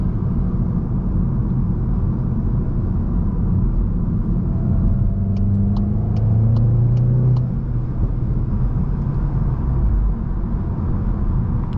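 Volkswagen MK8 GTI driven between 3,000 and 4,000 rpm, a steady low engine and road rumble that swells as it accelerates, followed by a short run of sharp crackling exhaust pops in the middle.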